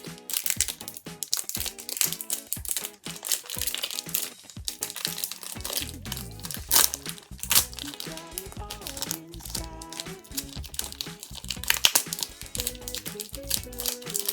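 A Pokémon trading card pack wrapper is torn open and handled up close. Loud foil crinkling and crumpling runs throughout in irregular bursts, with a sharp tearing rip partway through.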